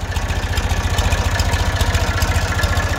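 A 1980 Massey Ferguson 135 tractor engine idling steadily, a loud low chugging throb with a regular rapid pulse, close up and continuous.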